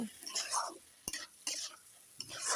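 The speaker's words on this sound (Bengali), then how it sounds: "ওই তেলের ভিতরে ধুয়ে রাখা পোলার চালগুলো দিয়ে নাড়াচাড়া করে নেব" Washed rice for carrot pulao is stirred in hot oil, giving repeated short scraping, rustling strokes with a sharp utensil knock in between, soft and close.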